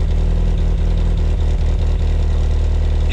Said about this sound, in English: Exhaust speed sounds even.